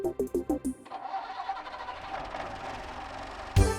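An old Bedford coach engine recorded close to its radiator: a rapid series of starter cranking pulses, then the engine catches and settles into a steady idle hum, followed by a sudden loud thump.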